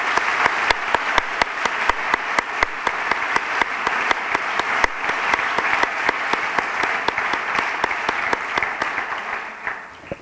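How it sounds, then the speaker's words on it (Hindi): Loud, steady applause from a big audience, many hands clapping continuously, tapering slightly at the close. "फिर से जोरदार तालियों के साथ।"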